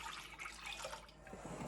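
Water pours from a measuring cup into Texas sheet cake batter, a soft, fairly quiet splashing stream close by, running steadily for a second or two with no voices.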